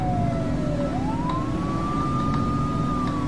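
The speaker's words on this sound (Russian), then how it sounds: "Давайте с сиреной." A police car siren from the video game The Precinct wails steadily and loudly, its tone dipping and then sweeping up to a sustained high pitch over a constant engine rumble, with no talking.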